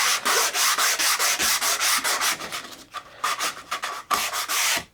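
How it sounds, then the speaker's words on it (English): Sandpaper held taut is rubbed by hand over the rounded edge of a wooden board, making a steady series of rhythmic scratchy strokes, close and fairly loud, that turn slightly uneven near the end, with no talking. "now we're going to go to the sandpaper and hold it taut like this and then push it down over the top"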